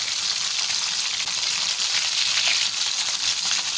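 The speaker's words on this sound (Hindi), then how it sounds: "ये देखिए ये अच्छे से फ्राई हो गई है" Seekh kababs made from minced chicken and meat sizzle and fry steadily in a hot pan, a dense continuous crackle with no break and no voices.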